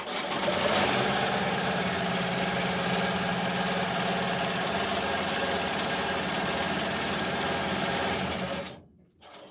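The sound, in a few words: embroidery machine stitching a tack-down on a stuffie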